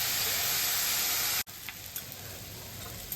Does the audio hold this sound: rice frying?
yes